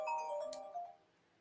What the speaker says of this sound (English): my phone has been ringing off the wall today, and I don't know why